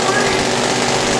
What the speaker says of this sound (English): Cleaning off the burr comb, running them in the uncapper